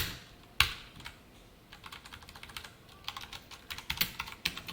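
Java code being typed on a computer keyboard: an opening sharp key strike, then a pause, then quick bursts of light clicky keystrokes picking up pace toward the end, close and clear.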